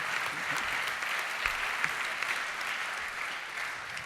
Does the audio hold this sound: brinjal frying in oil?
no